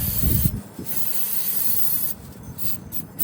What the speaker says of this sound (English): we're gonna be using brake cleaner to remove any excess oil that got left behind here